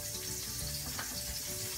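Margarine sizzles and crackles steadily in a frying pan as burrito-size tortillas fry, a close, continuous hiss with a brief swell near the middle.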